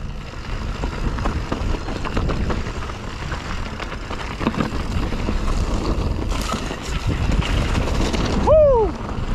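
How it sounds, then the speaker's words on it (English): Steady rumbling wind buffets the microphone during a sunny-day electric mountain bike ride, loud and continuous, with a brief voice near the end. "There's some wind."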